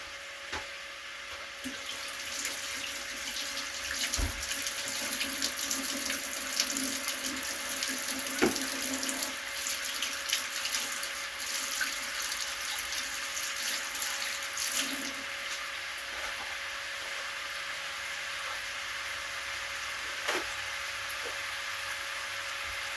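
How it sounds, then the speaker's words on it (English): Tap water runs steadily into a kitchen sink as hands are washed under it, a close continuous splashing broken by a few clinks and small knocks, no talk. "I'm going to wash my hands."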